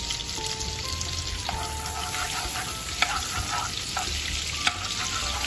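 Butter added to hot oil in a pan sizzles with a steady bubbling hiss and light crackle, close and fairly loud, with a couple of sharp clicks and no talking.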